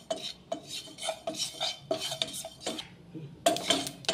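Sesame seeds being dry-roasted in a pan, stirred with a spoon in repeated scraping, rattling strokes against the metal, close and quiet with short pauses between stirs.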